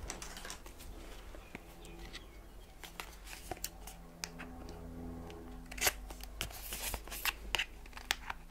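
Short crisp snips and rustling of packaging, several quick cuts scattered over a low steady background hum, fairly close and no talking.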